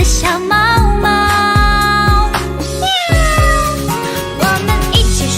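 Cat meows sung as part of a pop song, a series of bright, bending vocal meow-like notes riding over a steady beat and bass, loud and upfront throughout; the meows are a voice imitating a cat.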